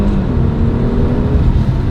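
A 2021 Kia Stinger GTS fitted with a RaceChip, in sport mode, accelerates on a wet road, giving a steady, loud engine drone with low rumble that fills the whole moment without talk.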